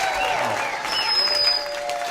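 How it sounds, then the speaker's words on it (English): Polite, sparse sympathy applause from a studio audience at a tribute show, a steady patter of claps lasting about two seconds with a faint murmur of voices under it. "That was a very sympathy clap."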